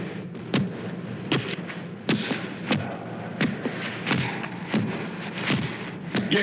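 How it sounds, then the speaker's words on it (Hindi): Heavy, booming footsteps shake the ground of Yamapuri, the realm of Yama, with deep thuds landing roughly every half second over a rumbling background and no voices. "ये किसके पदचाप की ध्वनि है"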